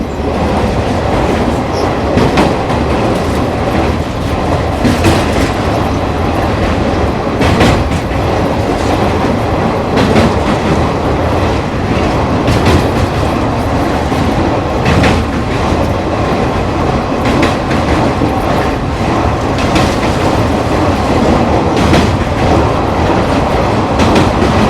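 Yuva Express train rolling steadily across a bridge over the Tapi river, a loud continuous rumble with rhythmic clickety-clack of wheels on rail joints throughout, heard from inside the carriage.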